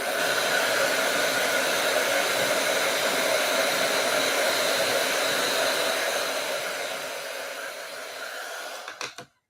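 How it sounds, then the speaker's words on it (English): A hair dryer blows steadily and loudly while drying hair after a wash, a continuous airy roar that holds for most of the stretch, eases slightly, then cuts off abruptly at the end. "this is a much gentler way, for me at least, to blow dry my hair"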